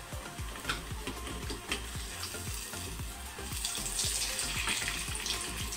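Medu vada fry in hot oil in a pan while being stirred, a steady close sizzle with repeated soft scraping strokes of the spoon in a loose rhythm, no voices.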